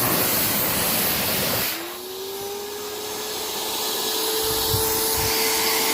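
A Greenworks 2000 psi pressure washer sprays with a loud, close hissing blast, then the pitch drops suddenly into a steadier rushing hiss with a rising tonal whine as the spray continues.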